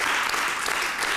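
Brief burst of dense applause, loud and close, filling a short moment on an Italian radio programme.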